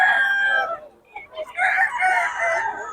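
A White Kelso gamecock crows loudly and close, a long strained call that breaks off briefly and then resumes, with faint clucking nearby.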